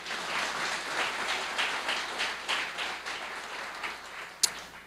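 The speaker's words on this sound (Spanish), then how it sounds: "Dele un aplauso fuerte al Señor." A church congregation at a Sunday service breaks into loud, sustained applause for the Lord, with dense clapping that swells in waves, then ends in one sharp, close knock.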